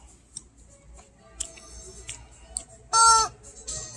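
Animated Halloween store chicken prop holding something in its beak, squawking in short bursts, with one loud, harsh crowing burst near the end amid faint store background noise.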